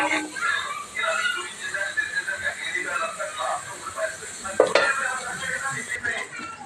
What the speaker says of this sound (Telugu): పన్నీర్ని ఆయిల్లో వేయించుకోవాలి.